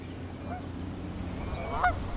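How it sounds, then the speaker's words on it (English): Geese and ducks honk on a calm river in the early morning, a few faint, scattered calls over a low background rumble, with one louder honk near the end. "Ducks and geese getting their day started."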